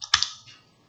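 A single F12 key pressed on a computer keyboard gives one crisp, close click with a short tail and no voices.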